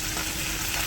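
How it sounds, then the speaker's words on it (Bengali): A short burst of dense, broadband hiss and sizzle from fish frying in mustard oil in a village kitchen, heard up close with no talking. "মাছ দিয়ে দিছি ভাজি করার জন্য"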